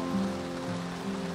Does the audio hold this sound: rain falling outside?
yes